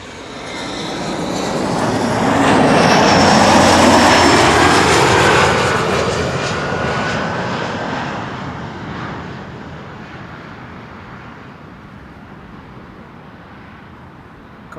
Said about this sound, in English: Next up, Embraer 175 from Cardiff, KLM, flight 1088